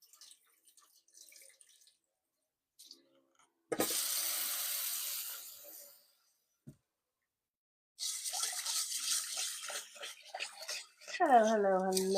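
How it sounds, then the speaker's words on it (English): Rice is washed under a running kitchen tap in short separate bursts of splashing water, close and fairly loud, between quiet pauses, with a brief hum from a voice near the end. "Don't mind me just washing up the rice real quick."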